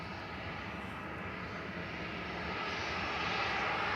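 A Ryanair jet airliner taxis at Manchester Airport with a steady, distant engine rumble and whine that grows slightly louder toward the end. No one speaks.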